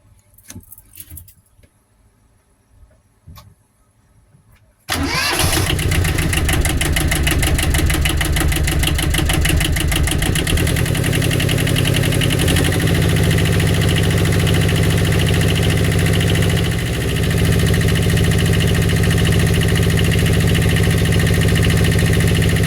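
After some quiet clinking and handling noises, the engine of a 1983 Catalina 30 sailboat starts abruptly after an impeller replacement and idles loudly and steadily, with a slight change in pitch partway through.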